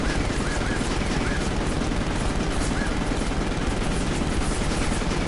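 Rapid, sustained SMG fire in Final Fantasy 15, a dense unbroken clatter of shots that fills the whole stretch at high, constant loudness with no pauses.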